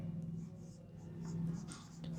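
Pen writing on paper during a maths lesson, a faint series of soft, short scratching strokes in quick irregular bursts over a low background hum.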